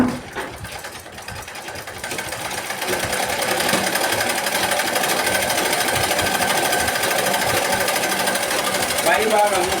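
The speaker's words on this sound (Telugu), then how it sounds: "బకరంను కుట్టుచున్నాను" Sewing machine stitching buckram tape onto curtain fabric, a fast rattling mechanical run that builds after a couple of seconds and holds steady and loud, with a voice talking over it.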